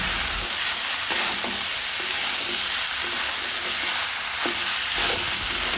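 Rice sautéed with spices in a pan for egg khichuri gives a steady, close sizzle, with stirring scrapes and soft clinks now and then throughout.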